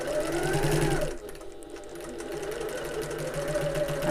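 A sewing machine stitches the end of a box corner on a hobo bag, running in a loud, rapid close-up whir, pausing briefly, then resuming at a steady pace, with no talk.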